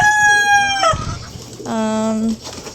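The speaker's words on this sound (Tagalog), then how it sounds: "Nag-breed po siya ng mga manok." Chickens bred on a Filipino homestead, loud and close: a rooster crows twice with long drawn-out calls, and a few clucks fall in between.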